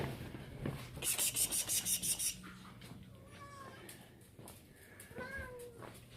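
A cat meows a few times, short rising calls in the second half, after a rapid series of scratchy rubbing or scraping strokes; faint background noise throughout.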